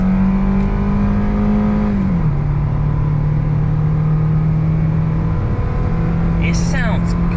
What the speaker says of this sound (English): I know this car really isn't made for speed, but it has a really aggressive note.